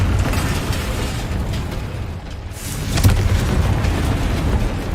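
Confringo fire spell blasts in Hogwarts Legacy, a loud continuous rumble of explosive bursts with a brief dip midway, then another heavy blast and rolling booms, close, with no talk.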